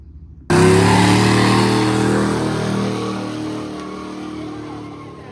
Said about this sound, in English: let me just put a video in of the burnout quick